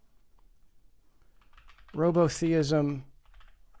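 Fingers type a quick search on a computer keyboard, soft clicking under a short spoken word in the middle.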